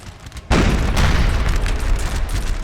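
A cannon firing round shot in Napoleon Total War lets out one loud, close boom that hangs as a heavy rolling rumble, with a second burst of blast noise just after.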